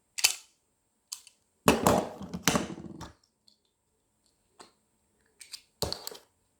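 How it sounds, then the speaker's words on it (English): Caps are loaded into a toy cap gun from Smyths Toys, giving scattered sharp plastic clicks and snaps, a cluster in the middle and a few isolated taps later, close up with quiet gaps between. "Now let's put some caps in."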